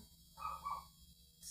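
A dog yips twice in quick succession, two short barks sounding faint and somewhat distant in an otherwise quiet room with a low steady hum.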